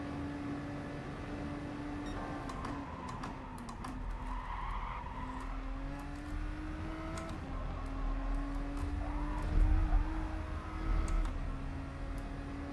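Race cars in the GT Sport video game during a daily race, a steady engine drone with rising and falling pitch and tyres squealing and skidding as the car corners, growing louder near the end.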